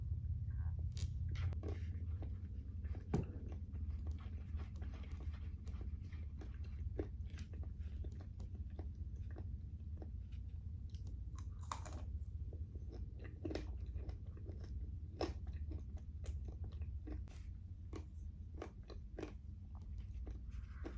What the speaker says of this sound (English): I'm going to sit here and finish my collard greens and Dodgers